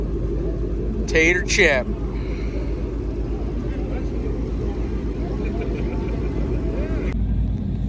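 Steady low rumble of an American muscle car engine idling and warming up before a drag run at Maple Grove, loud and continuous under brief talk, cutting off sharply near the end.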